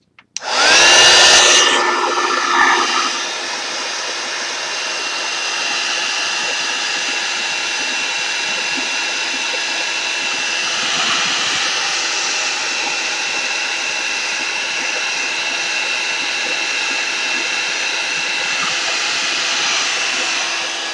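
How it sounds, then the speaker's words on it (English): Heat gun blowing hot air, switching on with a sharp whoosh and then holding a steady high, hissing fan roar for about twenty seconds, close and loud with no voices. "I'm going to turn on the heat gun."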